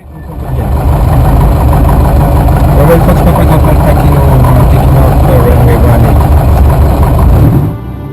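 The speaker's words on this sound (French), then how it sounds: "Décollage sur la 18 à Teruel. Il fait 32 degrés, l'aérodrome est à 3000 pieds, le roulage là aussi sera très très long" A Van's RV6 light aircraft's engine drones loud and constant during a long takeoff roll at a hot, high-altitude airfield in Teruel, heavy and close in the cabin, cutting off abruptly near the end.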